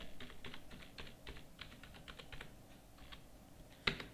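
Keys tapped on a computer keyboard while entering data into accounting software, quick irregular clicks in short bursts, close and fairly quiet, with one sharper click near the end.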